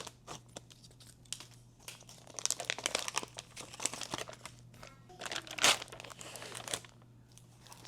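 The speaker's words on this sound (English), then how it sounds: "we are gonna go ahead and open our sublimation paper" Package of sublimation paper being opened, its plastic wrapping crinkling and crackling in irregular close bursts, with a sharper louder crunch near the end and no talking.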